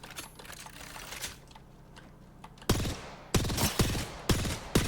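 Bursts of gunfire in the battle royale video game Apex Legends, a quiet stretch of distant shots and clicks giving way to loud, close rapid volleys in three or four separate bursts.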